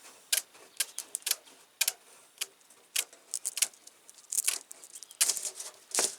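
Sharp snips of wire being cut during work on a reusable insect trap, a dozen or so irregular clicks, close and distinct against a quiet background.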